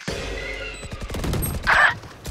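Gunfire in the video game Valorant: a short rapid burst of shots rattles across the clip, fairly loud and close, with a brighter impact near the end and no talk over it.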